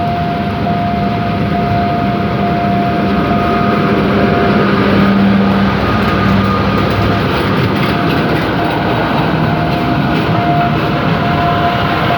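A railway ballast tamping machine and track maintenance vehicles rumble past a level crossing in the rain, with a continuous loud clatter and grinding over a deep engine drone and faint tonal whines.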